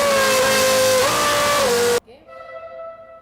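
A racing car engine, started by mechanics, revs loud and sustained with a small pitch jump in the middle, then cuts off abruptly and drops to a quieter, fading idle.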